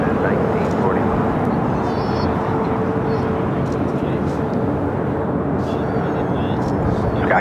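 A jet airliner on final approach to land at Los Angeles LAX, a steady broad roar that holds throughout, loud and continuous, with radio tower chatter faintly mixed in.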